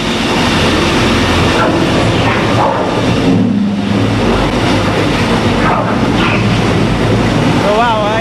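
An underground mining scooper clears debris in a gold, silver and copper mine, heard as a loud, continuous roar of machinery. The broadband rumble stays steady throughout, with no clear pauses.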